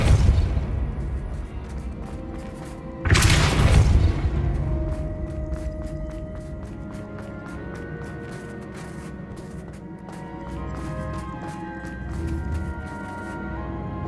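Bombarda spell blasting in Hogwarts Legacy, a sudden heavy boom with a roaring burst amid a busy game soundscape of rumbling, clicking effects and tonal chimes.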